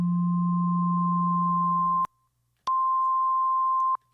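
A steady pure sine tone with a lower tone beneath it, which then cuts out; after a short silence the higher tone alone returns.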